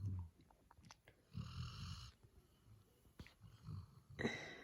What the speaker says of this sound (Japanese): しかもさ、いびきが出るしな。